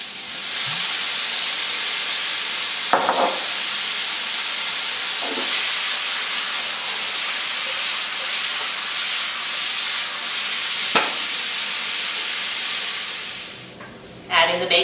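Apple cider vinegar hitting Brussels sprouts in a hot pan, a loud, sustained steamy hiss with a few clanks of utensils, then fading out near the end.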